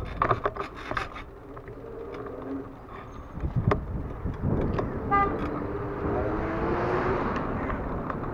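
A car passes on a street and sounds its horn, a few short toots near the start followed by engine noise building as it goes by, with birds faintly in the background.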